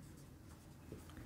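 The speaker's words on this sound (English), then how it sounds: "let me just write this result" Chalk or marker writing a result on a board during a math lecture, a faint, brief scratching of strokes with no voices.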